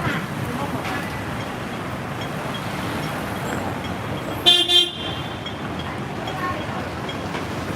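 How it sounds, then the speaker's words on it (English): Short car horn beeps from a vehicle on a narrow Hong Kong street by an MTR station and busy street market, sounding about halfway through over steady traffic and street noise. "Who's he beeping at?"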